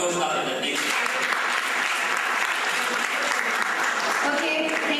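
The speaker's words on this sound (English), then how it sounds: "Big round of applause for all the teams." An audience at a CASA Olympiad 2012 team competition event gives a sustained round of applause, dense steady clapping filling the whole stretch with a faint voice underneath.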